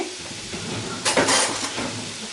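Vegetables with tomato paste stirred in a pan, a soft sizzle with a brief louder scraping burst of spoon against the pan midway, close and without talk.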